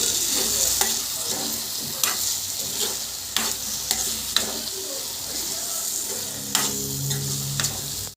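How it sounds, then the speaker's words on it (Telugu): Boiled eggs stirred into a sizzling tomato egg curry, with a loud, steady frying hiss and a few sharp spoon scrapes against the pan at irregular intervals, close up and without voices. "ఎగ్స్ వేసుకొని ఒకసారి ఇలా అంతా కలిపేసుకోవాలి"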